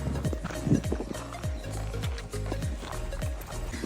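Horse hooves clip-clopping steadily as a rider sets off on a horse ride in the Chamundi Hills, a repeated rhythmic beat of footfalls, close and fairly loud, with no talk over it.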